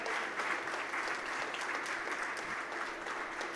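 A hall audience claps to welcome and honour Ghanshyambhai at a Women's Day event, a steady wash of applause at low volume throughout, with no voices over it.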